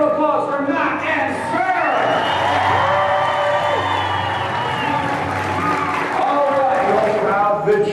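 At a Renaissance fair, an outdoor crowd applauds and cheers for a rider and his horse, steady clapping and whoops under a continuous loud wash of voices, with people talking over it.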